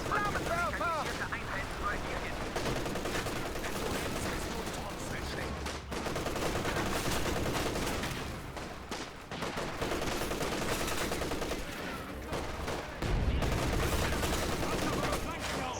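Dense, continuous gunfire and battle noise from a Company of Heroes 2 match with anti-tank rifles, sustained loud volleys and crackling shots over a steady wartime din.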